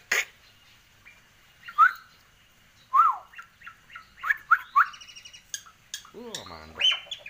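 A caged hill myna calls in a yard among other cage birds, giving several short bright whistled notes and chirps spaced over a few seconds, moderately close, with faint background voices.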